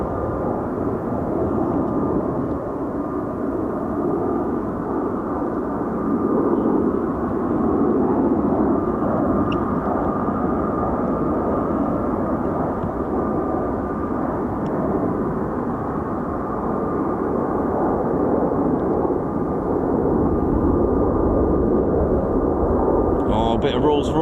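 Rolls-Royce-powered F-35B stealth jet on long final approach to runway 23, a continuous loud low engine roar that holds steady throughout without a break.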